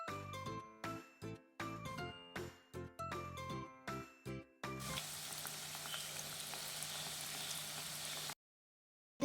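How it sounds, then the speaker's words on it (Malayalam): Chicken pieces going into hot sunflower oil one at a time, each landing with a bright, crackling burst, before the oil settles into a loud, continuous spitting sizzle that then cuts off. "ഇനി നേരത്തെ തയ്യാറാക്കി വെച്ച ചിക്കൻ ഓരോന്നിട്ട് നമുക്ക് ഫ്രൈ ചെയ്തെടുക്കാം."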